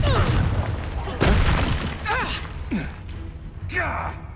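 Hogwarts Legacy Confringo blast spell going off amid a flurry of game combat, with a few sharp bursts and crackling impacts ringing out over swooshing effects, voiced spell calls and music.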